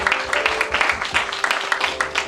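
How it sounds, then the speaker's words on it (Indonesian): A church congregation applauds during a sermon with lively, fairly loud clapping that rises in uneven bursts, under some voices. "Tepuk tangan buat Tuhan kita"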